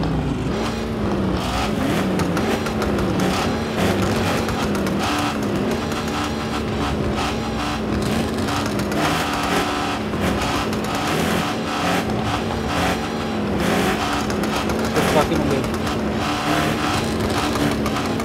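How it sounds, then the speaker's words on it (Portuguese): A car engine revs loudly and continuously, its pitch rising and wavering as it roars in a video game, with no talking over it. "o carro tá gritando, velho!"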